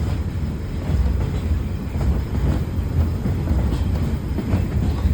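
From the cupola of a caboose pulled by the Shay 5 steam locomotive at the Illinois Railway Museum, a loud, continuous low rumble of rolling wheels carries a soft rhythmic rail clatter, with no talk.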